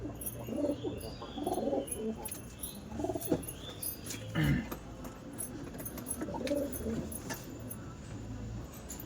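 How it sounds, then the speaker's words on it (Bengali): A pet pigeon with finely feathered feet coos repeatedly in a home loft, soft low murmurs recurring throughout with faint chirps and a person talking nearby. "খুব সুন্দর পাঞ্জার একটা পায়রা এটা।"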